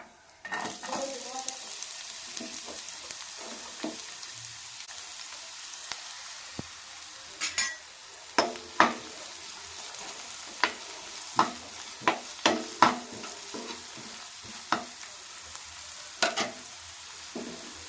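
Onions and garam masala frying in hot oil for prawn thokku, a soft steady sizzle broken by sharp intermittent clacks of a spatula against the pan, close and moderately loud, no talk.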